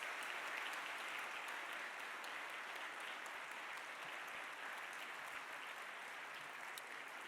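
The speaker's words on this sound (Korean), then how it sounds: "여러분들 인사할 때 큰 박수로 우리 목사님," Congregation applauding a pastor and professor during a seminary chapel opening service, a steady, sustained wash of clapping from many hands, heard from a distance and fairly quiet, continuing evenly throughout.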